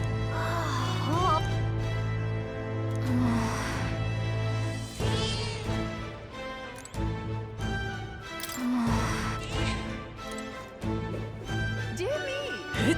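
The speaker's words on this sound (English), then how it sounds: "That's a good kitty." A cat meows in the fantasy role-playing game Metaphor: ReFantazio, a few short meows scattered among game music and character dialogue, while a player talks over them.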